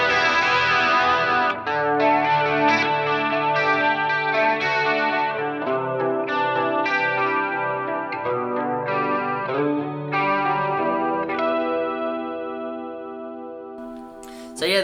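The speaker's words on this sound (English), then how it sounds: "I'll give you a clean tone on the bridge pickup. This is through my twin reverb preset on the head rush." Clean-toned Legacy Flying V electric guitar on its bridge pickup through a Twin Reverb preset on a HeadRush unit, with strummed and picked chords ringing out with reverb and shimmering effects, played continuously and up close with no voices.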